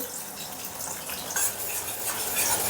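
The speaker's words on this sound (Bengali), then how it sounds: "বন্ধু দেখো পেঁয়াজটা ভাজা হয়েছে, লাল করে ভেজে নিচ্ছি" Onions fry in oil in a kadai, giving a steady, moderately loud sizzle with faint bursts of stirring and crackle, and no one talks.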